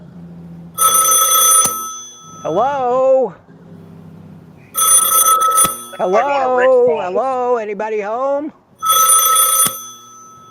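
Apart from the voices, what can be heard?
telephone ringing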